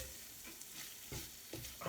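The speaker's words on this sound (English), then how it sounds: "I find frying off the tomato puree gives an extra depth of flavour again." Tomato puree fries quietly in a pan as part of a vegan aubergine dish, giving a soft, steady sizzle with a few brief scraping stirs.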